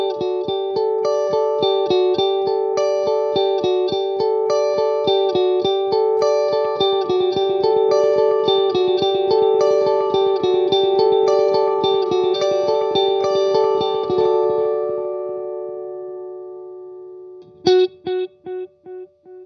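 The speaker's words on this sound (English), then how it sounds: "I'll be going straight into the amp first, and then I'll turn on the pedal so that you guys can hear the difference." An electric guitar plays a fast, rhythmic run of repeated notes through an amp with a shimmering delay, the echoes layered under each pick for about fifteen seconds, then a single note rings out and repeats in decaying echoes.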